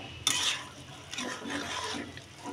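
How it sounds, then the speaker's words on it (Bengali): Carrot halwa with khoa being mixed in a pan at home, with soft scraping and stirring strokes and a faint liquid sizzle, close and quiet, with no talk. "এবার মিক্স করে দিচ্ছি, দেখো খেতে তো দারুণ হবে।"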